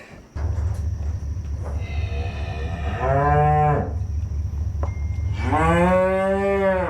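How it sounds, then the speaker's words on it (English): Heifers moo loudly and close by during loading at weaning time, two long drawn-out calls over a low, steady rumble of farm machinery. "I thought the calves would be easier to load than the heifers, but the heifers really wasn't that bad."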